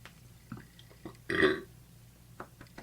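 A single man's burp, loud and close, erupting mid-clip with a short gap of quiet and faint scattered sounds around it.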